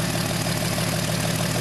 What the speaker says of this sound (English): You notice it kind of runs a little weird at certain RPMs, mid-range like that when I rev it up.